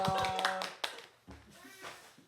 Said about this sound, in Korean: 자, 박수로 우리 격려하겠습니다.